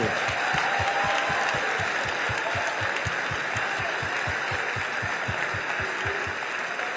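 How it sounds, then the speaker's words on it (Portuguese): A congregation at a Brazilian church missions symposium claps in a steady, driving rhythm, with loud, even beats under a dense wash of crowd applause lasting throughout. "Palmas ao Senhor Jesus."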